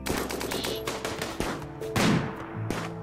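Sniper rifle gunfire in the video game RimWorld: several sharp, loud shots punctuate a busy three-second stretch of game sound, with a heavier burst near the middle and another crack toward the end.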